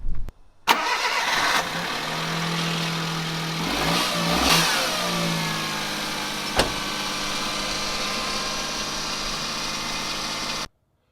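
A Suzuki Jimny JA22 with a freshly replaced battery cranks briefly and fires on a cold morning, then settles into a steady, loud idle with a slight rev swell, close up and with no talking.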